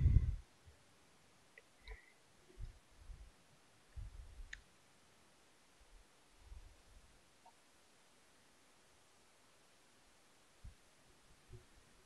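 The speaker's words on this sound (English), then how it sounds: "I'm clicking furiously on the X." Computer mouse clicking during a game: sparse, faint, scattered clicks over a quiet background hum, some in quick little clusters.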